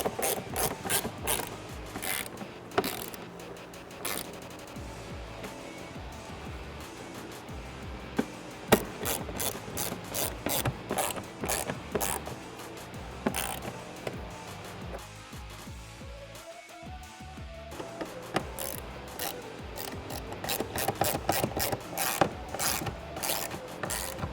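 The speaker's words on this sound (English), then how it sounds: "Using a ratchet is definitely safer." A hand ratchet tightens the bolts on a Roush cold air intake fitted to a 2018-2019 Ford F150 2.7L EcoBoost, giving rapid close pawl clicks in bursts with short pauses between strokes.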